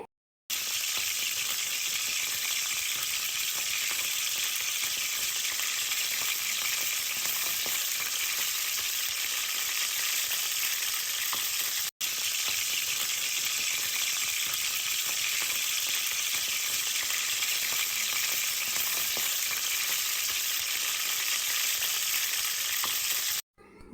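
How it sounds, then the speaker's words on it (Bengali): Rohu fish rubbed with turmeric, chili powder and salt frying in hot oil, giving a steady, loud, dense sizzle and crackle that runs unbroken throughout with no talking. "রুই মাছটাকে হলুদ গুঁড়ো মরিচ গুঁড়ো ও লবণ দিয়ে ভালোভাবে মাখিয়ে গরম তেলে ভেজে নিচ্ছি ভালো করে"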